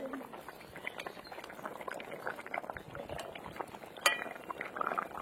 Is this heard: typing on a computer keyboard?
no